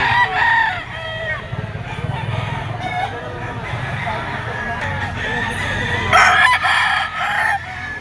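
A white-legged gamefowl rooster crows loudly and close several times in a row, with someone talking over it.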